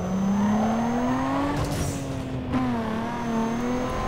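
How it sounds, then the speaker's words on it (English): A car engine hums steadily with a slowly rising then settling pitch, loud and continuous like a racing game's motor, with no talk. "the car sounds in this game were sick."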